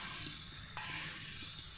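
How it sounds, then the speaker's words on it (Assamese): Ground chillies fry in a pan with a close, constant sizzle, and a single sharp tap of a spatula stands out partway through. "গোটেইখিনি মই ধুনীয়াকৈ আকৌ 2 মিনিটমান সময় ধুনীয়াকৈ মই এইখিনি ভাজি ল'ম।"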